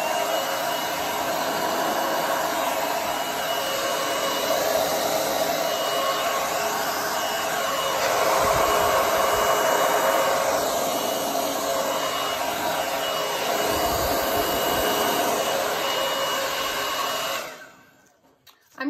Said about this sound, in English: I'm going to start with my big blow dryer on cool and high